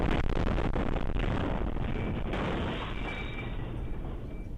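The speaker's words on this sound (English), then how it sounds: "That is the sound of sheer terror in the magnitude of that explosion." A massive, sustained bomb blast roar from an RV fills the air in Nashville, Tennessee, loud and broadband, slowly decaying over several seconds with a rumbling tail.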